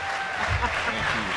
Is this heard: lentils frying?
no